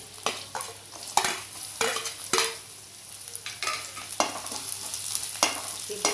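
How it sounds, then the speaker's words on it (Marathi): Garlic and green chillies fry in oil with browning onion, a constant hissing sizzle broken by repeated scraping stirs of a spatula against the pan. "आता आपलं हे लसूण हिरवी मिरची पण भाजून झाल्या"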